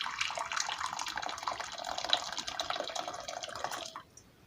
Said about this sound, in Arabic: هنبدأ نجيب بولة كده ومية سخنة نحطها فيها